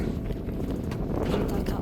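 Wind buffets the microphone in a steady low roar on a hot day at Uplistsikhe rock town near Gori, Georgia, with faint rustling and clopping underneath.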